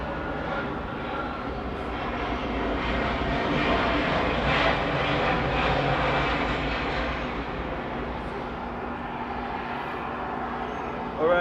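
Airliner jet engines roaring at Atlanta airport during plane spotting, a steady, loud broadband rumble that swells in the middle and fades slightly, with faint voices in the background.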